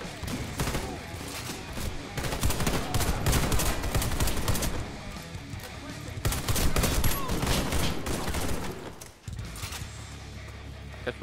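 Sustained automatic gunfire in the shooter game WarFace, dense overlapping bursts rattling almost continuously for several seconds before a brief drop, with faint talk mixed in.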